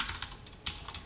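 Rapid keystrokes clatter on a computer keyboard as placeholder lorem text is typed, quiet and close, an even run of clicks with no talking.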